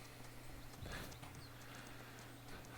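Horse hooves clip-clop with a short whinny from a champion barrel racing horse in the farming game Virtual Homestead, heard faintly over a steady, constant background hum.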